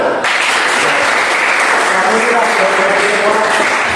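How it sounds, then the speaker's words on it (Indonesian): Students in a floor gymnastics lesson on the forward roll clap their hands together, a dense, even burst of clapping that starts abruptly and carries on steadily, with faint voices underneath. "Yang paham silahkan tepuk tangan"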